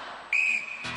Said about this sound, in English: Celebrities, you will go on my first whistle.